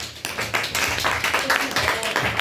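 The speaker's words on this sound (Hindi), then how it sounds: "ताली बजाओ इसके लिए" Students in a seventh-grade maths class clap together: a dense, busy patter of hands from a room full of children, continuous for a couple of seconds.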